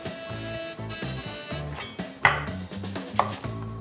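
A knife slices red paprika into thin strips on a cutting board, giving a couple of soft, brief knocks against the board under light background music.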